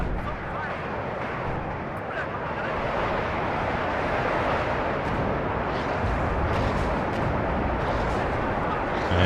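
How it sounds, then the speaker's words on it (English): Rocket artillery in the WARNO video game fires a sustained barrage, a dense continuous roar of launches and rumbling impacts that stays loud and unbroken throughout. "Here comes the rocket artillery over the top."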